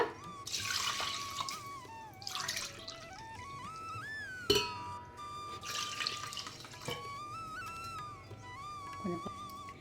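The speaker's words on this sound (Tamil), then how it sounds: "ரெண்டு கப் அளவுக்கு தண்ணி சேர்த்துக்கோங்க" Water trickles and splashes into a pot in uneven bursts, two cups measured in while making kalkandu sweet rice, with a tonal whine running underneath.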